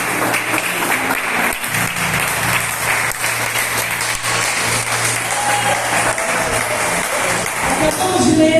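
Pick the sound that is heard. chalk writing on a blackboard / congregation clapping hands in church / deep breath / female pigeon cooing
congregation clapping hands in church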